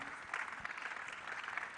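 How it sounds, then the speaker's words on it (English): A church audience at a career fair gives a brief round of applause: soft, distant, continuous clapping filling the hall. "a round of applause"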